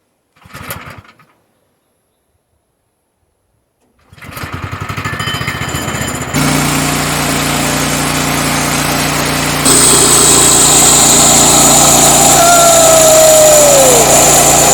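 A Woodland Mills bandsaw mill fires up after a short burst of noise and a pause, and its small engine settles into a loud, steady high-pitched drone that strains harder as the blade cuts into the log.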